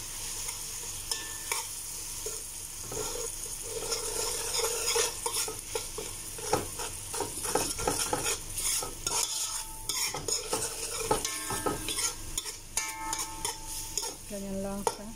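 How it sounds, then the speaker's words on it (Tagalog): Food sautéed with orange-red food color and chicken cube in a pan gives a steady sizzle with frequent scraping and clinking of a utensil stirring against the pan, close and continuous. "Then maghulog din tayo ng 3/4 ng chicken cube. So gisa lang natin."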